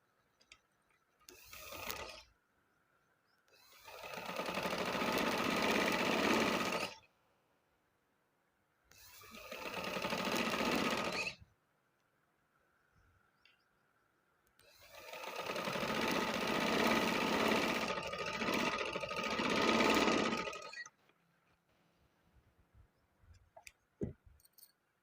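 A sewing machine stitching a kids' trouser in four bursts of rapid, steady running, short and long, separated by near silence with faint handling clicks, close and with no talking.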